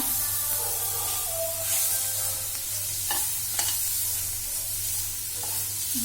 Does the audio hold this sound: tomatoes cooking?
yes